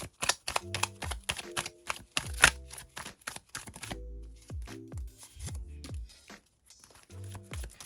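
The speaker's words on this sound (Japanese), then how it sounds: "それではキーカード引いていきます。" Tarot cards shuffled and drawn close up, with rapid flicking and riffling bursts and card slaps over soft, steady chiming tones in the background.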